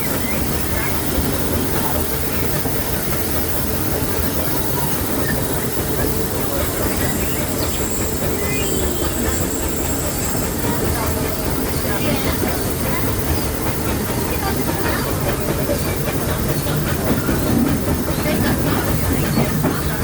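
Big Thunder Mountain mine train ride at Disneyland, heard as a steady loud rumble of the rolling coaster train with hissing and rattling throughout, crowd noise mixed in.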